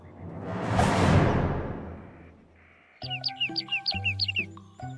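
Cartoon bird chirping in a rapid series of bright, high tweets that follow a loud whoosh, close and clear with no talk over it.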